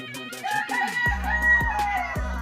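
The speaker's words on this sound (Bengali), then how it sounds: "দর্শক দেখুন এখানে মোরগ মুরগি সবই ডাকছে" Roosters and hens calling at a park enclosure in Lalpur, Natore, with overlapping loud crowing and clucking nearby, several birds sounding at once.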